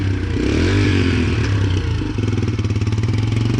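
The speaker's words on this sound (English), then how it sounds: "I can't believe that thing fired right up." A Yamaha TT-R125 dirt bike that sat unused for a year runs after starting, its small single-cylinder engine putting out a loud, close, rapid putter with clattery revving and no talk.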